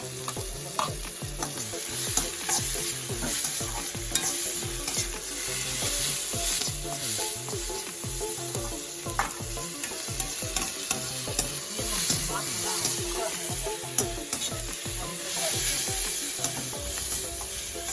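Chicken masala with ginger-garlic paste and tomato sautéing in a pan for curd chicken, a steady close sizzle and fry hiss broken by frequent scraping stirs, continuous throughout with no voices.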